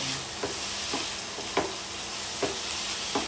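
Chicken pieces frying in a pan, a steady bright sizzle with occasional crackling pops and stirring scrapes, close and continuous with no talk.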